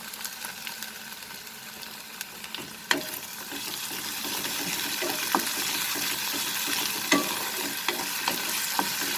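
Ginger garlic paste frying with lightly cooked onion in a pan for soya keema, a continuous close sizzle broken by a few sharp utensil clicks and scrapes, with no voices.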